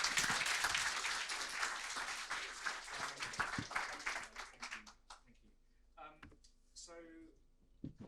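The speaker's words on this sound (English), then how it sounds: "I just want to have a big round of applause and a big thank you to JT" A panel discussion audience applauds in a dense burst of clapping that thins and fades over about five seconds, after which a voice speaks close by.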